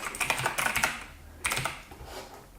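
Rapid keystrokes on a computer keyboard in bursts, with a short pause before a second flurry of close, crisp clicks.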